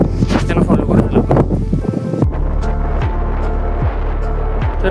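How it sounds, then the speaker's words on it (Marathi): Strong wind blasts across a microphone on a morning trek to Peb fort, a loud roaring buffet for the first two seconds, then easing into a steadier rumble with gusty pulses. "इथे वारा एवढा जोरात वाहत होता की माझा काहीच आवाज येत नव्हता."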